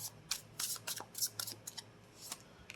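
Soft, quick riffling of tarot cards being shuffled in short irregular bursts, close and fairly quiet, with no voices.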